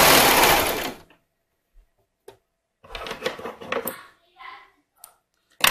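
A sewing machine attaches elastic to a swim top, running in a fast whirring burst, then stopping for short stitch runs and handling clicks between pauses, close and clear.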